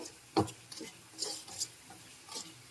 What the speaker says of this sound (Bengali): এখন খুব ভালো করে নেড়ে চেড়ে মিশিয়ে নিচ্ছি মশলার মধ্যে